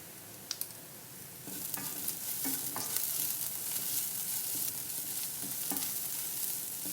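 A spice mixture being stirred in a hot pan while making palak thoran, with steady sizzling broken by sharp scraping and tapping strokes of a spoon, close up and without voices.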